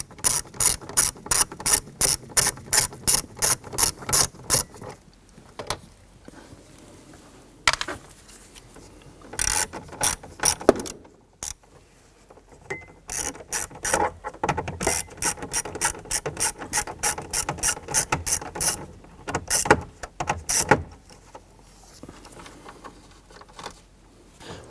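Rapid ratcheting clicks from a hand ratchet backing out 9/32 trim screws on a 1993-1997 Ford Ranger dashboard, coming in several close, loud bursts separated by short pauses, with no talking.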